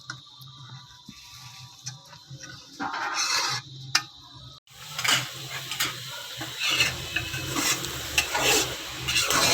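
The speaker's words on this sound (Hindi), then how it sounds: "अब इसको मैं मिक्स करती हूँ।" Sweet jaggery rice is stirred in a pan, with scraping spoon strokes and a soft sizzle that turn busier and louder midway, heard up close with no voices.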